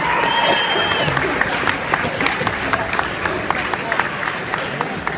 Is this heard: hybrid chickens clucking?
no